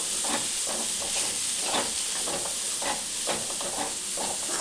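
A soaked green gram mixture with coriander being stirred in a pan, giving a continuous hiss with soft, repeated stirring scrapes up close and no voices.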